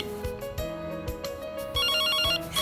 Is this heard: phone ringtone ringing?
yes